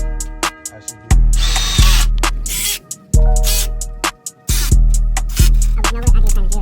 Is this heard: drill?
yes